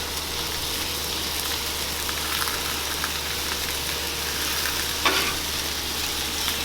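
Seasoned shrimp fry on a Blackstone griddle, giving a steady, close sizzle that runs unbroken throughout, with a brief scrape or clatter of flipping near the end and no voices.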